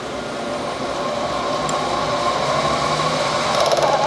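A milling machine cuts a dovetail into hard steel for a parting tool modification. It gives a steady, close mechanical whir and grind that holds at an even level throughout.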